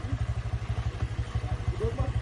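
Motorcycle struggling on a rough road, its engine pulsing in a fast, regular low throb with slight clatter, close and steady, with people talking over it.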